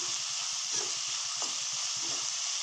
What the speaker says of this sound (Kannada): ಈರುಳ್ಳಿ ಇದು ಒಂದು ಸ್ವಲ್ಪ ಬಾಡ್ತಾಯಿದೆ. ಇದು ಇನ್ನೊಂದು ಸ್ವಲ್ಪ ಫ್ರೈ ಆಗಬೇಕು.